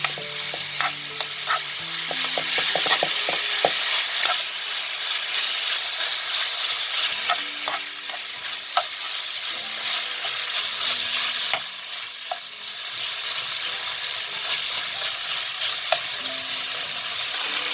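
Chicken strips sizzling steadily in a frying pan as they brown, a constant crackling hiss with occasional stirring clinks and scrapes close by.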